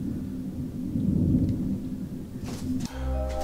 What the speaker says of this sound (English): Guys, look how bad it is outside. It's literally storming out there.